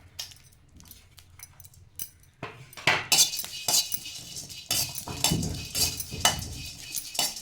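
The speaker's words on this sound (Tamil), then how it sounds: "இப்போ அதே சட்டியில் நம்ம இந்த வெள்ளி விதையும் பூசணி விதையும் வறுத்துடலாம்" Melon seeds, pumpkin seeds and cardamom roasting dry in a pan, heard as close irregular rattles and scrapes of a spoon stirring, quiet at first and growing busier and louder partway through.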